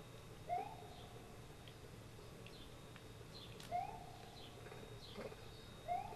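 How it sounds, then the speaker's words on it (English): Birds call outdoors in three spaced, clear chirping phrases rising and falling, moderately near over a steady low background hum, with faint softer calls between. "Birdies."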